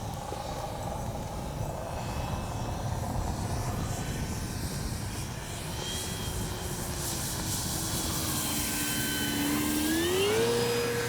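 FMS P-47 Thunderbolt RC model warplane flying a pass with gear down, a continuous electric motor whine that holds steady, then rises in pitch near the end as it approaches.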